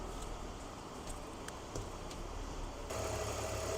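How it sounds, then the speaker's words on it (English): A BMW engine idles steadily with its power steering pump engaged during a fluid flush, giving a continuous low hum and whine with light mechanical ticks, growing slightly louder toward the end. "So with the engine running and that pump engaged, we're now going to start evacuating fluid"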